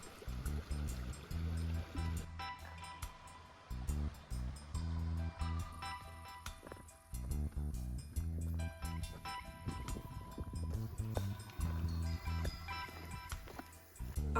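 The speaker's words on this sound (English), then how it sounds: "it's a waterfall." A mountain waterfall in the Pyrenees gives off a steady, loud rush of falling water that stays continuous and unbroken, with other layered tones over it.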